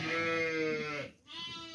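Sheep and lambs bleat inside a tent, with a long, loud, nearby bleat followed by another cry, the sounds overlapping as if from many animals.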